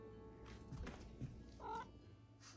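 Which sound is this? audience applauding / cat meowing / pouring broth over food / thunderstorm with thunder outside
cat meowing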